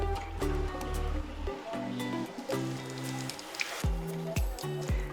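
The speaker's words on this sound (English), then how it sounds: "you should hear the water go into the machine and then stop" Water flowing into a countertop water ionizer, a steady trickling stream with intermittent sputtering and gurgling bursts of air, close and moderately quiet.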